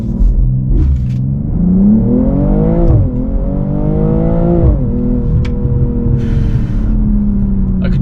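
A BMW G42 M240i pulls hard from a launch-control start, its engine note climbing loudly through the revs, dipping at a gear change and climbing again, heard from inside the car without talk.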